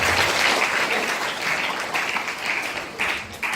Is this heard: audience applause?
yes